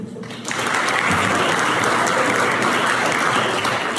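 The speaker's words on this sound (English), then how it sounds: "Round of applause if you've been to Mexico." Audience applause at a stand-up comedy show swells up after a brief quiet start and holds as a dense, steady clatter of clapping from a crowd.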